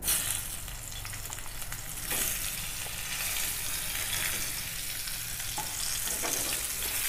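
Onion, tomato and ginger frying in a pan for restaurant-style chole masala, a loud, dense, continuous sizzle with occasional stirring, close up and without speech.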